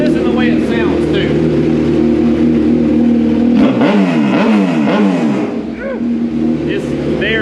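A stock-engine 2022 Hayabusa with a Two Brothers exhaust roars continuously on a dyno, very loud and close, the tone sweeping up and down through revs before easing off near the end.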